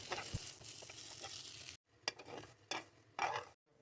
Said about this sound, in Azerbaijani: 50 qram da kərə yağı əlavə edirəm. Qızarana qədər qovururam.